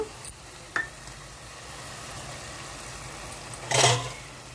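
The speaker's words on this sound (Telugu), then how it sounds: "ఇప్పుడు డ్రై ఫ్రూట్స్ వేసుకుందాము" Dry fruits, raisins and cashews, dropped into jaggery and milk-powder carrot halwa cooking in a pan, a soft steady sizzle with two small clicks early on and a louder rustling burst near the end.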